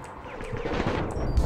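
Gunfire from the shooter game APB Reloaded, a burst of rapid shots at close range, fairly loud and dense, with a sharp crack near the end.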